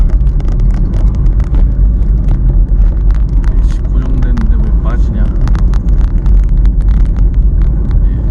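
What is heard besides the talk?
car engine while coasting downhill braking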